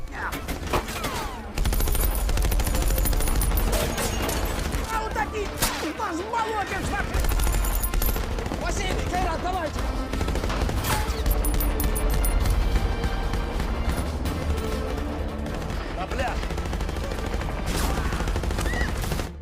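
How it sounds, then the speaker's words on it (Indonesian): Dense, loud bursts of gunfire crackle continuously amid a busy, chaotic battle soundscape from the war film Tank for Stalin, with layered explosions and clatter over a rumbling low end. "tiba-tiba tentara Jerman menghujani tembakan ke markas Sergei."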